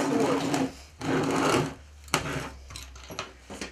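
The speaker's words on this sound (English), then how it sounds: "always pre-drill those holes, otherwise you're going to find that it could possibly" A power drill pre-drills holes in wood while a boot scraper is being built, whirring in two long bursts followed by shorter spurts and knocks.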